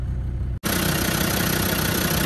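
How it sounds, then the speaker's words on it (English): A late Land Rover Defender 110 TD5 diesel from 2006 idles steadily and close up, its even low rumble broken by a brief cut at the start before settling into a continuous, smooth idle. "There we are, late TD5 engine just doing what it should."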